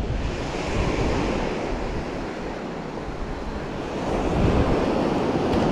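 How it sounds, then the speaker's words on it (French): Surf rolls onto a beach in Mayotte near the village of M'zouasia, a loud continuous wash of breaking waves with wind buffeting the microphone, swelling slightly toward the end. "La plage."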